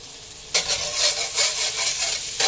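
Ingredients sautéing in a frying pan while tiger skin eggs are cooked, giving a bright, crackling sizzle that jumps in suddenly and then pulses unevenly, close and loud, with no speech.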